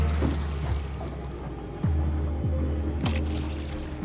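Water splashed by hand to imitate a large crocodile moving through a river in the Sepik region of Papua New Guinea; several distinct slapping splashes come at intervals close by, over a steady low background hum.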